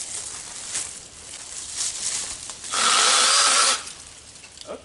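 IMOUM handheld mini chainsaw cutting tree limbs, a quiet buzz that rises into about a second of loud, harsh motor whine while the chain bites through the wood, then drops back.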